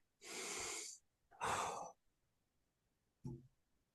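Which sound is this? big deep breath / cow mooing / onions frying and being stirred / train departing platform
big deep breath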